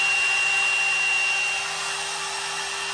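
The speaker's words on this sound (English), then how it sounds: "I'm going to go ahead and spindle on. And we spin up to" A Millright Mega V XL CNC router spindle runs at about 24,000 RPM, giving a steady high-pitched electric whine with a constant hum beneath it. The sound is close and even, dropping slightly in level partway through.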